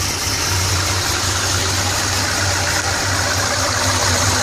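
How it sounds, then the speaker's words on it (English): Chevrolet Corvette with a newly installed cam idling with its exhaust valves closed, a steady, loud engine drone with a low rumbling pulse throughout, close by and without speech. "But of course I got the exhaust valves closed, so it's on quiet now."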